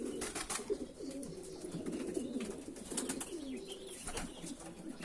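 Pigeons or doves in a game bird coop coo steadily in overlapping soft calls, with occasional chirps and a brief flutter of wings, close and moderately loud throughout.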